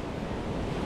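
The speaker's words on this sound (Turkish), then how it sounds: "Zaten sürekli böyle dalga geliyor." Ocean waves roll steadily onto the shore at Uluwatu, Bali, a continuous broadband wash of surf with some wind rumble on the microphone.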